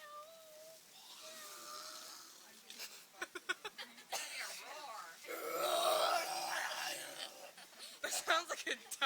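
A young boy imitates a lion roar with a run of rough grunts, then a long, strained, growling cry that swells and breaks into further short grunts, all close and unaccompanied.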